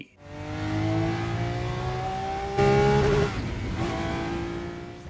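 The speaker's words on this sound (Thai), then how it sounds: "โดยรถรุ่นที่ปรากฏออกมาก็คือ Lamborghini Aventador LP 7004 ที่เซลีนาคลายขโมยบรูซไปขับหลังจากงานราตรี" A Lamborghini Aventador LP700-4 sports car engine in a film scene sounds as a sustained tonal whine that rises in pitch, then surges briefly louder and fades somewhat.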